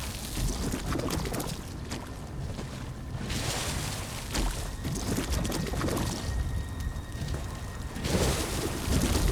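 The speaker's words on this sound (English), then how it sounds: "Now pour the oil around the barricades." Oil poured from a bucket around barricades in Elder Scrolls Online, a steady rushing, splashing pour that runs nearly continuously and close up, swelling slightly near the end, with no talking.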